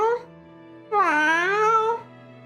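A person imitating a cat's meow: one short vocal note, then a longer, drawn-out, wavering mew sung in a clear, close voice.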